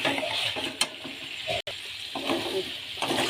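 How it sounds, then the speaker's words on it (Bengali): Chicken being fried and stirred (kosha) in a pan, a steady close sizzle with intermittent scraping and stirring clatter throughout, no talking. "এবার জলটা শুকিয়ে গিয়ে এবার চিকেনটা কষা করে নেব।"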